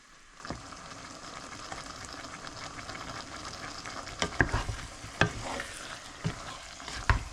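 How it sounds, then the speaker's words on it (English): Scallions sauteing in a pan on high heat, a steady sizzle and fry with occasional sharp clinks and stirring knocks from a utensil against the pan, growing busier toward the end. "Now we're just going to saute it for a minute"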